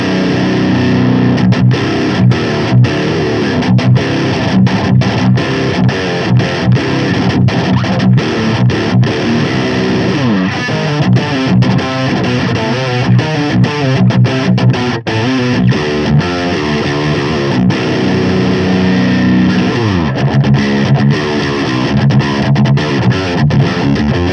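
Heavily distorted seven-string electric guitar plays tight, chugging low riffs and chords, loud and dense, with dynamics that stay steady throughout, no voices; a custom amp-modelling tone in Positive Grid BIAS Desktop.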